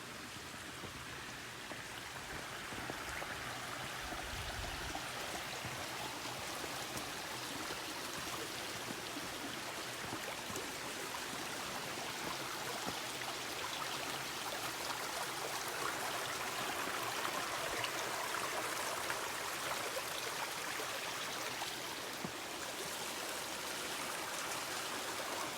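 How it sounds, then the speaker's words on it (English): A mountain creek on a wooded trail in January flows steadily as a constant broad rushing wash, near and even throughout with no voices. "I hear a creek down here."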